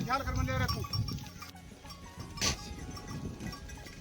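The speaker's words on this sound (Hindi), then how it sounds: "ये देखो बकरियां आ चुकी है" Goats arrive in the Aravalli hills, giving short bleats mixed with a clanking bell amid outdoor rustle, while someone speaks over them.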